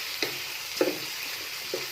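A green chili is mixed into garlic chutney: three brief, soft stirring knocks stand out over a faint steady hiss, close by with no talking.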